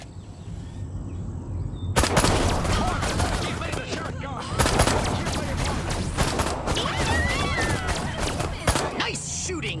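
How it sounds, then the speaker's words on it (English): Disintegrator ray fired at police in the Destroy All Humans remake, crackling rapid bursts that start abruptly and return after a short pause, loud and dense, with chirping electronic zaps layered through the firing. "So I'm unlocking your disintegrator ray."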